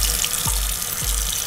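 A small splash of tap water runs steadily and close by during a morning shower and face-washing routine, brief and with no talk over it.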